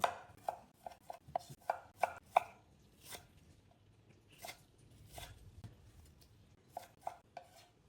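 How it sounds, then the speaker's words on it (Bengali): Knife chopping tomatoes into even pieces on a board for a chana chaat salad, a quick run of sharp close taps early on, then sparser scattered cuts, no talking. "টমেটোগুলো সেম সাইজ করে কেটে নিতে হবে"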